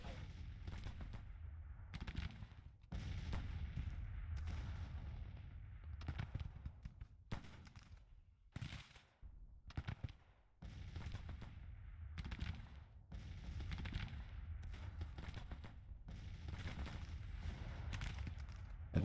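Artillery bombardment in the Civil War strategy game Grand Tactician: repeated booming cannon blasts and rolling gunfire in irregular bursts, some overlapping, some spaced apart, fairly distant and continuous through the battle.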